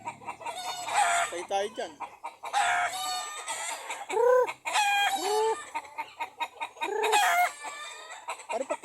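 Chickens and a rooster in a Filipino community yard cluck loudly and repeatedly, with crowing bursts mixed in, close and continuous, while people talk nearby.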